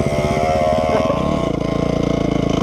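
Tunturi moped engine arriving, a steady buzzing two-stroke putter that holds close and loud, then shifts to a slightly lower idling beat, with no speech.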